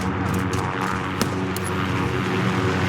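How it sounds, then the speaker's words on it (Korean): Helicopter approaching in the video game Call of Duty: Modern Warfare, a steady droning rotor and engine hum that stays loud and constant throughout. "헬기 소리."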